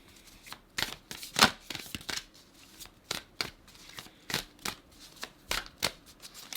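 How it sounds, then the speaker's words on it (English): Tarot cards shuffled by hand in a quiet room, a run of quick papery riffles and soft slaps coming in irregular bursts, close and fairly loud, with no talking. "I feel like I gotta shuffle some more for the Leos."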